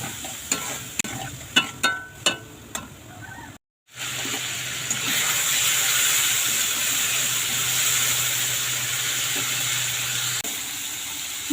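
Water is poured into a pan of frying spices while cooking teasel gourd: a few clinks and stirring knocks, a brief pause, then a loud, sustained hiss of sizzling and steam that keeps going steadily.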